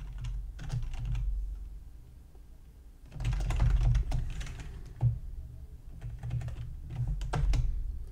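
Keys on a computer keyboard are typed in quick clattering bursts separated by short pauses, close and clear with no talking.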